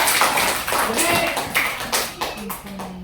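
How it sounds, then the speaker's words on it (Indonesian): A sixth-grade class claps hands in an elementary school classroom, a short burst of scattered, uneven claps with children's voices talking over it. "Sekali lagi, tepuk tangan buat semua"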